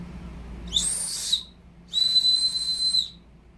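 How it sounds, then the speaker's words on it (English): Two loud, shrill blasts from a lanyard survival whistle, each about a second long, separated by a brief pause, close and piercing. "We got a whistle here on the lanyard."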